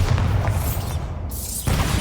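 Spell explosions from Confringo and Bombarda cast in the Hogwarts Legacy video game: heavy low booming blasts that rumble continuously, a short drop in the middle, then a fresh loud burst near the end.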